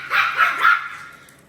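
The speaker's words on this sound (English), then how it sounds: "The ones that are making the noise right now are my two little ones right here who are barking at their mom." Two young puppies yipping at their mother in a home playpen, three quick high barks in close succession, loud and near, with no talking.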